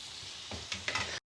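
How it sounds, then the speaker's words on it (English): Base gravy for a chicken tikka curry sizzles and bubbles in a hot pan, a short soft hiss with a few stirring scrapes, close but quiet before stopping abruptly. "And then probably about another half ladle of base gravy."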